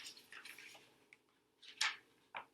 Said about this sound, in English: Drip.